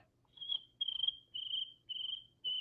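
A person imitates cricket chirping with five steady, high, buzzy trills in an even rhythm, heard close and fairly quiet against a faint low hum.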